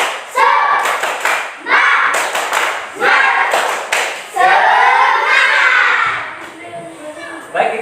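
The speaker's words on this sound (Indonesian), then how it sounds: "Kita tepuk semangat terlebih dahulu." A classroom of students claps a rhythmic spirit clap together, sharp patterned claps in quick groups, with voices chanting along loudly and close.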